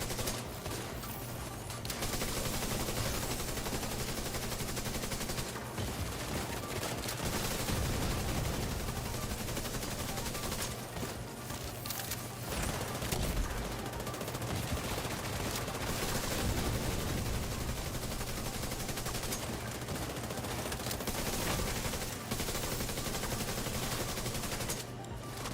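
Gunfire in The Division 2, loud continuous bursts of automatic weapon fire with rapid repeated shots and brief gaps, sustained throughout.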